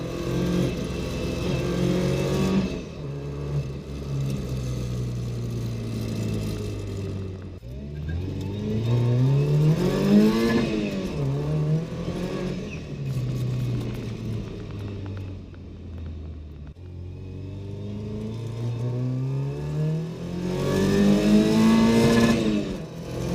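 A Mk2 Ford Escort engine pulls hard on a test drive round the block, revving up through the gears with rising and falling tones and a loud, steady rumble from inside the car.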